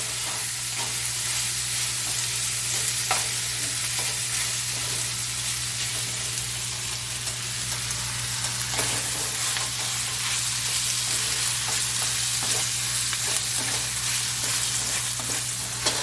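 Cabbage fries and sticks in a pan on medium heat, giving a loud, continuous sizzle with occasional stirring scrapes and a steady low hum underneath, with no talking.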